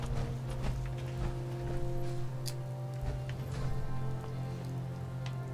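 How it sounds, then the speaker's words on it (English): Steady rain falls across a game world, a dense even patter of drops hitting surfaces, with low droning tones and scattered clip-clop of hooves running underneath throughout. "See here. It's raining,"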